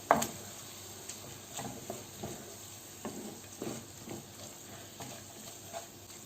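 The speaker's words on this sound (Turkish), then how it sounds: "Bütün malzemenin birbirine geçmesi için şöyle bir karıştırıyorum" Spiced sarma filling of rice and spices being stirred in a bowl, giving soft, irregular scraping and shuffling strokes at a steady, unhurried pace in a quiet kitchen.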